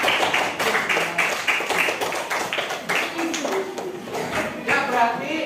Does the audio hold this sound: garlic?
no